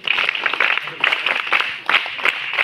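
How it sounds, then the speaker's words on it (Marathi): A crowd claps together at a felicitation during a school picnic gathering, a dense, fairly close patter of hands that swells and dips over a few seconds, with voices mixed in. "पुन्हा एकदा जोरदार टाळ्या होऊन देत"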